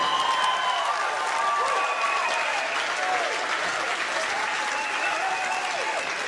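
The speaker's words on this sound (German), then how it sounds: "Ja, wenn das nicht ein Applaus wert ist" A live concert audience bursts into dense, sustained applause that fills the whole stretch evenly, with a voice talking over the clapping.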